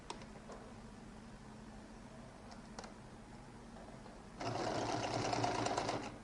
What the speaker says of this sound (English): I'm going to sew the top alone